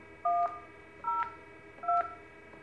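Three short DTMF keypad tones on a Cisco SPA office phone dialing star and an extension for a blind transfer, each a clean two-tone beep spaced about a second apart over faint background hum.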